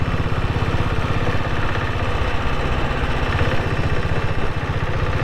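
A 6.5HP diesel engine in a Bullet motorcycle runs steadily nearby, a loud, even low-pitched chugging idle with a constant rapid thump that doesn't change speed.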